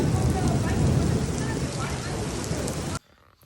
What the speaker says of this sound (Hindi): तो बारिश देखो अब।